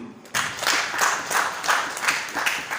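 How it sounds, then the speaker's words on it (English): A crowd applauding, a steady patter of many hands clapping that starts abruptly and continues evenly. "Let's clap for him."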